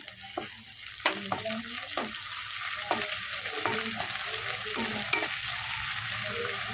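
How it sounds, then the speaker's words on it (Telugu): Ginger-garlic paste fries with onion and fenugreek leaves in a pan, a continuous sizzle punctuated by repeated close stirring scrapes and spoon knocks at an uneven rhythm, with no talk. "అల్లం బాగా పచ్చి వాసన పోయే వరకు ఇట్లా వేయించుకోవాలి"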